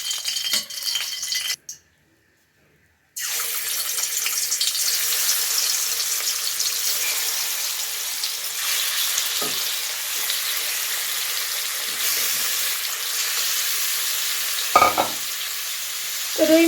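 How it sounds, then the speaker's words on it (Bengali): Pieces of rohu fish fry in a pan with a continuous loud sizzle and crackle, broken by a brief silent gap early on and occasional stirring knocks. "তো রুই মাছটা আগে ভাজা করে নিচ্ছি"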